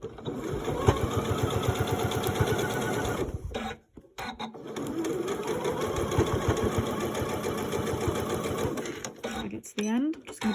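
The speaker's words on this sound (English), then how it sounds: "And now I'm going to sew a straight line down there." A sewing machine runs a straight seam on a top, its fast rhythmic needle chatter loud and close, pausing briefly midway before starting again.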